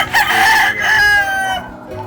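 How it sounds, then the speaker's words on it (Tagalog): A rooster crows once, close and loud, its long strained call rising and then trailing off, with no talk. "Diyan po kasi sa likod, may mga manok."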